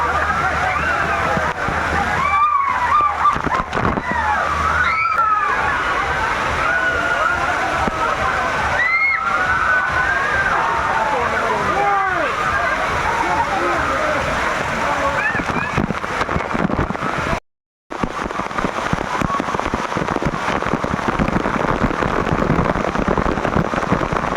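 Water pours and splashes at the Lucky Falls waterfall in a water park, a constant loud rushing wash with crowd noise, and people talk over it throughout.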